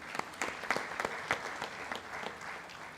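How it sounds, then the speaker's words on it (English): Audience applause at the valedictory session of AeroCON 2022, an aerospace engineering conference: a fairly soft, steady patter of many hands clapping, with sharper individual claps standing out, and no talking. "One round of applause for him."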